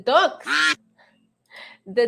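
Ducks quacking close by in loud, harmonic bursts: two quick quacks, a pause, then fainter calls and a final quack.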